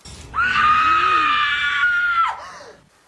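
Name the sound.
woman screaming in the film Scream 3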